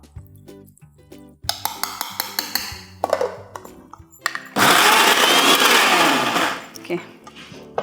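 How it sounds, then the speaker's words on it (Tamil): A Prestige Endura mixer grinder grinding prawns whirs in short bursts, then runs at a loud steady roar for a couple of seconds before stopping, with clinks and rattles between pulses. "நம்ம இன்றைக்கி யூஸ் பண்ணுறது வந்து ப்ரெஸ்டீஜ் எண்டூரா மிக்ஸி"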